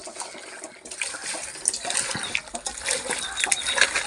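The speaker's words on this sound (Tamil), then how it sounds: "இப்போ உள்ள தண்ணி ஆமாம் தண்ணி வடித்தேன்" Water drains and splashes off chicken being prepared for grilling, a close, uneven pouring and spattering that swells and dips over a few seconds.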